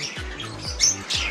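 Green Fischer's lovebird squawking in short, harsh bursts close by, a few rapid repeated calls with sharp rasping tones over a brief moment.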